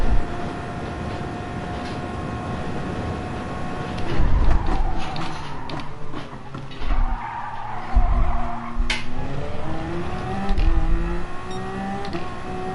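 Race car engines in the video game Gran Turismo Sport at Le Mans whine and rev steadily, shifting pitch as they accelerate, with bursts of tire squeal and skidding rising over the continuous mechanical drone.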